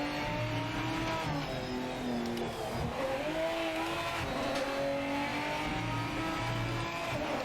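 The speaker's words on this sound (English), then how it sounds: "Small track I'd say for throwing GT cars around" GT race cars in the Project Motor Racing video game roar around a small track, with engines continuously revving and shifting pitch, layered with tyre noise from close, busy racing action.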